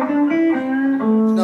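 A clean, undistorted electric guitar plays sustained notes and a few chord changes at a guitar masterclass, ringing clearly with no vocals over it.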